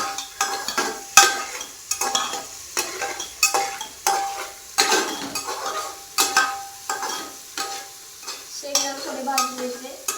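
Peanuts and onion stirred in a hot pan give loud, rhythmic scraping and rattling strokes over a steady sizzle, close up, with a spoon repeatedly knocking the pan.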